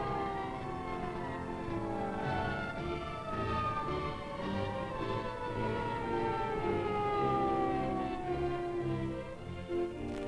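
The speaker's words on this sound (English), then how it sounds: "Screaming sirens lead the way as the ambulance convoy speeds across the city" Several ambulance sirens wail together with long rising and falling sweeps, loud and continuous over a rumbling engine and traffic background as a convoy speeds across a city.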